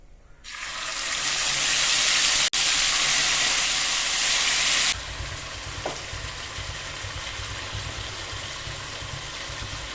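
Beef dropped into hot coconut oil erupts into a loud, bright sizzle that holds for a few seconds, then settles into a steadier, quieter frying hiss, close up and without speech.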